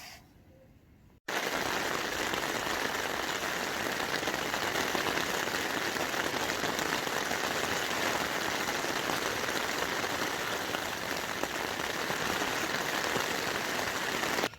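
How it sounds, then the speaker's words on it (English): Rain falling on a tent while backpacking on the Cumbria Way, a dense, constant patter of drops on the fabric that starts abruptly after a short quiet moment and then holds steady. "Hopefully the rain won't keep me up all night."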